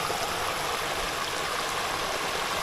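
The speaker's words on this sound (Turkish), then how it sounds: "Minik şelale." A small waterfall outdoors on a nature trail flows with a steady, broadband rushing hiss, constant and moderately close, with no voices.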